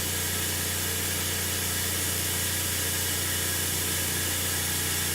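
A Semitool 870-S spin rinse dryer spins up to high RPM, giving a steady, dense broadband whir with hissing air and a constant low hum throughout.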